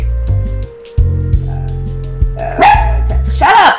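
A dog lets out two short, sharp barks or yips near the end, after a stretch of low, steady background sound.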